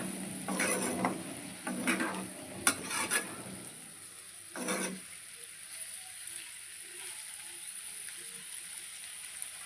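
Ivy gourd (kovakkai) fry with masala is stirred in a pan, giving several short scraping bursts in the first few seconds, then only a faint sizzle under a steady high hiss.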